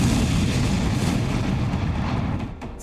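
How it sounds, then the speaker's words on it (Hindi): A powerful blast on a quiet morning street near a CRPF school in Delhi's Rohini area, picked up by a CCTV camera, produces a loud, sustained, rumbling roar that fades slightly at the end. "तभी एक जोरदार धमाका होता है।"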